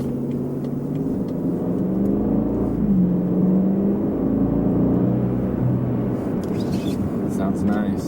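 A 2013 BMW 750i xDrive with a twin-turbo V8 drives along with a steady low engine rumble and road hum, the whir holding fairly even throughout, with people talking in the cabin over it.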